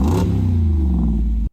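A vehicle engine revs steadily and loudly with a deep, sustained drone that holds for about a second and a half before cutting off abruptly.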